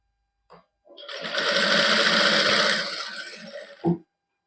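A sewing machine stitches lace onto a plain party-wear suit in one steady, loud run of about three seconds, with short handling knocks just before and after.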